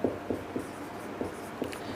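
A pen or chalk writing during a science lesson on light and mirrors, a few quick scratchy strokes in an uneven rhythm, close and fairly quiet.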